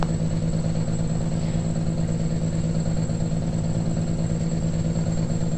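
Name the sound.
straight piped 386 truck engine under throttle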